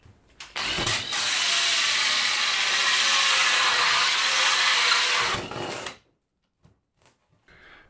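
A power drill with a hole saw whines loudly and steadily for about five seconds cutting into a wooden campervan ceiling, then spins down and stops, followed by a few faint knocks.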